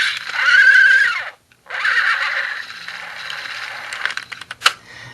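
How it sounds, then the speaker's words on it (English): A 1980s See 'n Say toy plays a loud recorded horse neigh, a rising and falling whinny lasting over a second. After a short gap come recorded hoofbeats and plastic clicking that end in a sharp snap. "This is a horse."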